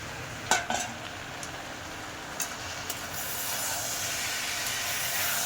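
Kher cooked with fish head is stirred in a pan, a continuous loud sizzle and hiss with a few sharp scrape and knock clicks from the spoon early on, then steady frying noise.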